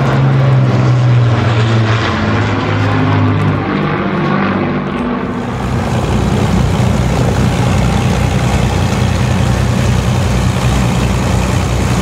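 An Avro Lancaster bomber flying at an air show, its piston-driven propellers giving a loud, continuous droning roar that shifts in tone partway through as it passes.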